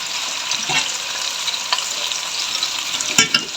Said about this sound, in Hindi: और चिकन ऐड करने के बाद इसको मैं भून लूँगी अच्छे से।